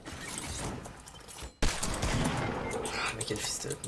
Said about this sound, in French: J'ai mis une shot, Louis.